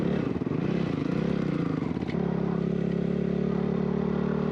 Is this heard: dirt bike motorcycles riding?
yes